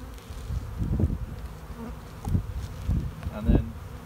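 Honeybees swarm over a brood frame during a hive split, a steady close insect drone that swells into louder buzzing surges every second or so, with no talking.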